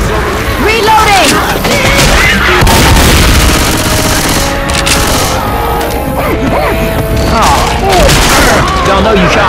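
Dense, continuous gunfire and heavy booms from survival play in Left 4 Dead 2 at the Parish's bus depot, loud and relentless across the whole stretch, with shouting voices mixed in.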